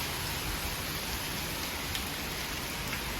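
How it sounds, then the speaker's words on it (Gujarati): Heavy monsoon rain pouring down in the evening over flooding farm fields. A dense, constant hiss and patter stays unbroken throughout, loud and enveloping, with no one speaking. "વરસાદ તો હજી બંધ થવાનું નામ લેતો ને, પણ અત્યારે વધી ગયો છે"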